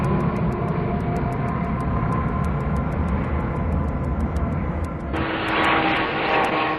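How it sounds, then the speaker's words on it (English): Propeller aircraft in flight, a steady droning engine hum with a pulsing blade beat that brightens and shifts near the end, sounding fairly close and loud with no voices. "With propellers producing lift for vertical takeoff, then turned through 90 degrees to provide thrust for conventional flight."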